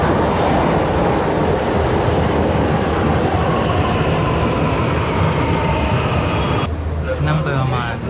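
Loud, continuous rumble and roar of a Delhi Metro Blue Line train running, with a steady mechanical hum and a shift in tone near the end.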